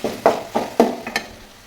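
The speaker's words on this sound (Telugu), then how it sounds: "టమాటా, పచ్చిమిర్చి, ఉల్లిపాయ వేసి కొద్దిసేపు వేగనివ్వాలి." Tomato, green chili and onion fry in a pan for jowar khichdi, giving a short burst of sizzling broken by four or five distinct stirring knocks spaced about half a second apart.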